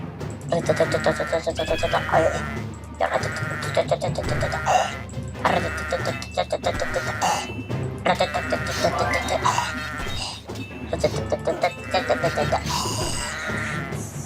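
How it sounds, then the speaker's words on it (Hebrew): Sheep bleat repeatedly over a busy, layered Kingdom Rush game soundtrack with constant music and effects, the calls loud and overlapping throughout. "יש כאן כבשים"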